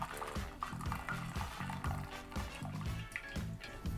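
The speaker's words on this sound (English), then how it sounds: "I've got my strainer here so that way I can pour my soup directly into the pan" Chicken and vegetable soup poured from a pot through a strainer into a pan, a steady close splashing and trickling of liquid running throughout under a rhythmic background beat.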